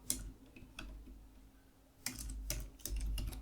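Computer keyboard keys tapped in short bursts, faint, close and quiet, with a few isolated clicks followed by a quicker cluster of keystrokes near the end.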